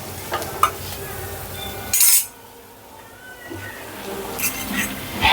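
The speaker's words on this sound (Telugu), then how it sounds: "పసుపు వేసుకొని పసుపుని 1 నిమిషం పాటు మనం పసుపు వేపుకుందాం" Turmeric frying in oil in a pan while a potato masala for dosa is made: a steady sizzle sits under scraping and stirring with a metal utensil. A sharp clatter comes midway, then the frying quietens before rising again.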